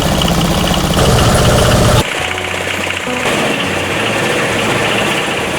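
A pineapple leaf fiber decorticator machine runs loud and steady, its motor and spinning blades giving a continuous rough mechanical drone that shifts in tone partway through, with no talking.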